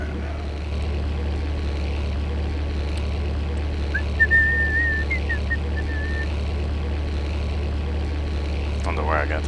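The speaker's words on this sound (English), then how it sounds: "I was just whistling." A person whistles a short wavering tune over the steady drone of a propeller aircraft engine in a flight game.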